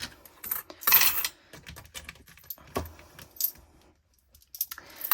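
Loose coins, the small red copper pieces, handled and jingling with light metallic clinks and rattles in irregular bursts, close by and with no talk.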